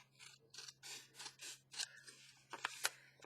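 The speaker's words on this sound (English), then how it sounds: "I want to cut that just a smidge." Scissors snipping paper for an upcycled window-envelope craft, a quick run of close, crisp cuts and faint rustles.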